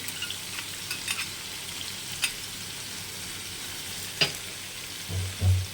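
Sliced snake gourd fries in a pan, a soft, steady sizzle close by with occasional small pops and a brief clatter of stirring near the end, no voices.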